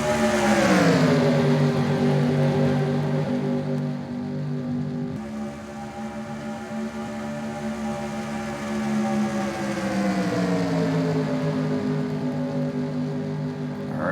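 Race car engines drone steadily in a racing video game on an oval, with tonal whines rising and falling as cars pass, loud and continuous with no talk.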